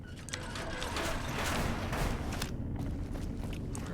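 A heavy door mechanism grinds open in Fallout New Vegas, a dense, rumbling mechanical churn with ratcheting clatter that swells and holds steady over about four seconds.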